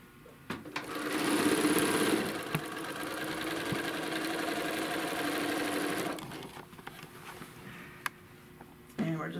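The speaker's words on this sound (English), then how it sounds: "we're gonna sew all the way down" Sewing machine stitches along a quilt panel border in a steady mid-volume whir of rapid needle strokes lasting several seconds, then stops, leaving faint clicks and handling noise.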